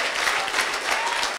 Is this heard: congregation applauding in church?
yes